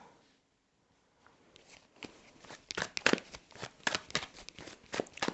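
A tarot card deck is shuffled after a second of near silence, with soft, rapid riffling and flicking of cards that builds into a quick, uneven flurry, heard close and fairly quiet.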